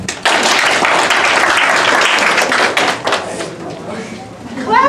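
Audience clapping at a motivational talk, a dense, steady wash of applause running loud through most of the stretch and thinning near the end, with voices mixed in.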